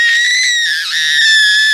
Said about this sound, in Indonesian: Tiba-tiba terdengar suara jeritan dari atas.